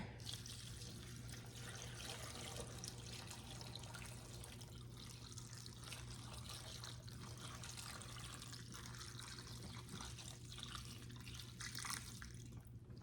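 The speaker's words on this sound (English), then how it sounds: "I'm just gonna pour this water in here" Steady running water pours continuously into a pot, a soft rushing splash with a faint low hum underneath.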